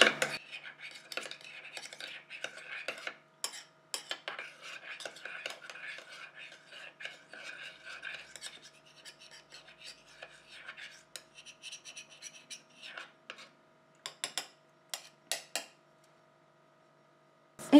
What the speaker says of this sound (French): Je mélange déjà un peu.